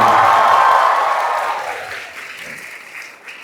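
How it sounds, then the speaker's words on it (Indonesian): Loud audience applause from a crowd of young people at an Indonesian public talk by Anies, a dense wash of clapping that gradually thins and fades over a few seconds. "Tepuk tangan."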